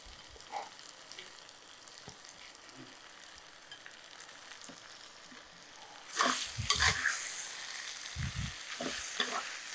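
Small quail pieces hit a pan with small potatoes and cumin: a quiet stretch, then a sudden loud burst of sizzling with scraping stirs that keeps crackling close by.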